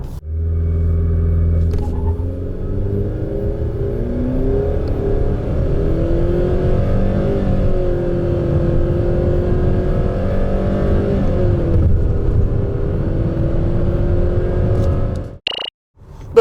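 A 2019 Renault Samsung QM6 LPe, an LPG-fuelled SUV, accelerates hard in a steady, loud engine drone. Its pitch climbs smoothly for about fifteen seconds, then cuts off abruptly with a brief click.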